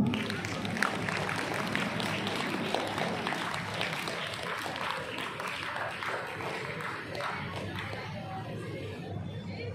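A school audience at an Independence Day celebration applauds in a sustained, fairly distant wash of clapping, mixed with crowd chatter and murmuring throughout.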